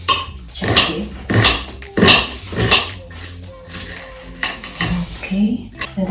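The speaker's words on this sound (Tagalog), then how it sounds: "Then I'm going to chop this into small pieces." A knife chops vegetables for a Spanish gazpacho on a cutting board, with a series of sharp, evenly spaced knocks that are close and fairly loud, mixed with light kitchen clatter.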